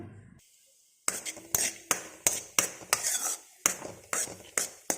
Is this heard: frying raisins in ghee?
yes